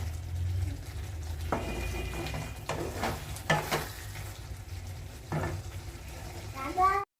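Masala fries in oil in a pan with a continuous sizzle and several stirring scrapes and clacks against the pan. A voice is heard briefly in the background.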